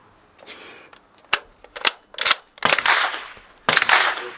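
Gunshots at an indoor shooting range in Prague: a handful of sharp, loud reports, some single and some in quick pairs, with short echoing tails and quiet gaps between them.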